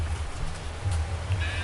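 Goats bleating on a livestock farm, a few low, short calls repeated over steady rustling background noise, fairly close and moderately loud with no talking.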